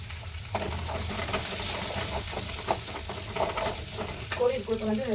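Oil sizzling and crackling in a pan as a spoon stirs a spice tempering, with scraping clinks and popping spatters over a continuous frying hiss.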